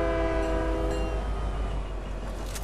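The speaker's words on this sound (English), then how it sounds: "All right, I'm on the train." A train in a video game sounds a sustained horn over the low rolling rumble of the moving train. The horn fades after about two seconds, leaving the steady rumble alone.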